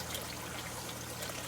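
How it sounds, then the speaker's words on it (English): Water draining from a grow tank through an external siphon with an air pipe, a steady, soft trickling and pouring stream that stays constant and close throughout. "I even put a little air pipe here for the drain so that it aerates the water as the water drains"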